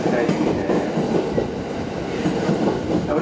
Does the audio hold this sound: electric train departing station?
yes